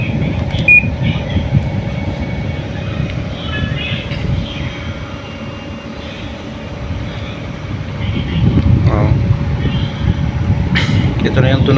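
An electric fan running on swing mode, giving a steady low whirring drone with a faint varying hum that grows somewhat louder toward the end.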